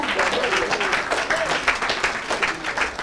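An audience claps and applauds at a sermon, dense and continuous, with a voice speaking over the clapping.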